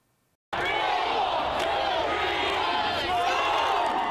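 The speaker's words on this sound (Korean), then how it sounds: "직원들의 카운트다운이 시작되고 이어 환호와 박수가 터져나옵니다" Shoppers in a New York store erupt into loud, sustained cheering and applause at the iPhone 6 launch after a moment of near silence, a dense roar of voices and clapping that holds steady to the end.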